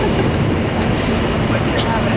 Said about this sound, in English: The train is really late because I don't know why they said something was up with the trains.